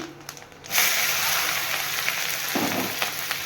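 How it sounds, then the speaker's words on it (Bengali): Chopped onion and green chilli hit hot oil with cumin seeds and break into a loud, steady sizzle and hiss that carries on to the end, with no talk. "তেল গরম হয়ে গেছে আমি জিরে ফোড়ন দিয়ে জিরে ফোড়ন দিয়ে আমি পেঁয়াজ কুচি লঙ্কা কুচি দিয়ে দিলাম"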